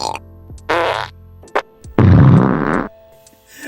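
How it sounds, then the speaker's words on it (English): Crash Bandicoot's comedic cartoon farts on a video game loading screen, several separate blasts of varying length, the longest and loudest a drawn-out rumbling one near the end, with quiet pauses between. "you can make Crash burp or shard himself continuously."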